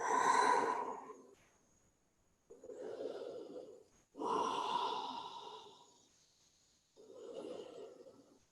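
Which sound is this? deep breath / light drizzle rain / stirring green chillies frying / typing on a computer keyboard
deep breath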